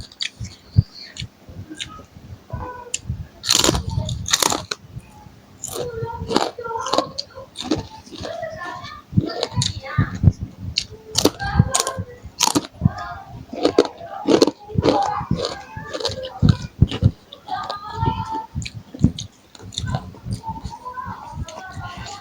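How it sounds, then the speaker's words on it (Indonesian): Crunchy, slightly bitter emping crackers are bitten and chewed close up during a meal of fried chicken, sambal and raw vegetables, giving repeated sharp crackling crunches in an irregular rhythm. "Dengerin, kriuk dari kerupuk emping."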